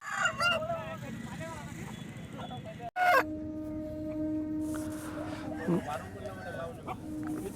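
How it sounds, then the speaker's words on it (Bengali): A large-breed fighting rooster at a Makar Sankranti cockfight in Kharagpur makes honking, clucking calls near the microphone, partly under someone talking, with a sharp knock-like burst about three seconds in. "এই যে তোমরা মোরগটা দেখতে পাচ্ছ, এটিও বড় জাতের মোরগ।"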